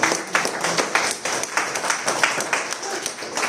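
A church congregation claps in a steady rhythmic beat, a roomful of hands striking roughly three times per second, close and moderately loud with no talk over it.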